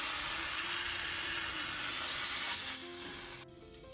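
Tomatoes sizzling on a grill while being prepared for fish molee, a steady close hiss of frying that fades and stops abruptly near the end.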